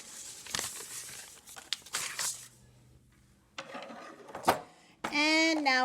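Paper being cut with scissors for a reindeer headband craft: a few crisp snips and crinkles up close, quiet gaps between them, then a louder final rustle; there is no talk.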